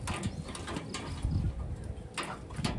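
Wantai racing pigeons coo softly in a loft, with low murmuring calls repeating over a steady background hum.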